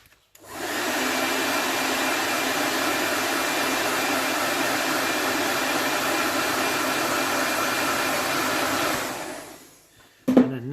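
A hair dryer blows steadily for about eight seconds to quick-dry paint on a Nighthaunt miniature, a loud continuous whoosh that starts and stops abruptly, with a brief knock right after it cuts off.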